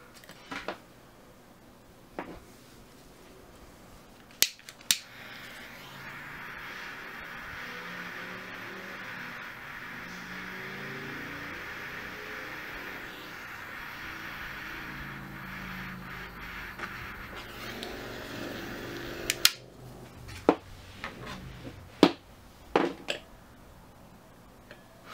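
A torch hisses steadily as it melts a chip of acrylic plastic on a metal surface, a soft, even roar lasting several seconds, framed by sharp clicks and taps before and after.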